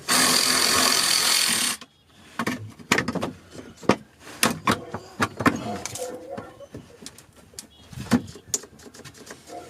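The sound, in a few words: cordless ratchet running then dying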